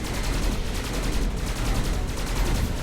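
A burst-fire weapon shoots in the Skyforge video game, a dense run of rapid, evenly spaced shots that keeps up for about three seconds at steady loudness.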